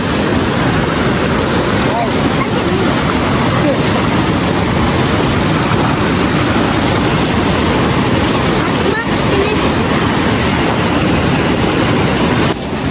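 The Koksu river's waves make a loud, continuous rush of churning water close by, a dense, unbroken roar that holds level from start to finish with some wind buffeting mixed in.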